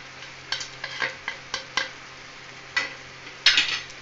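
A spoon stirring Maharani chicken curry in a pan: a series of short scraping strokes at an uneven rhythm over a faint sizzle, close and clear with no talk.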